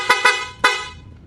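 Horn of a Yamaha Sniper MX 135 motorcycle with a rewired electrical setup, sounding three short, sharp, loud beeps close to the microphone, the last one trailing off.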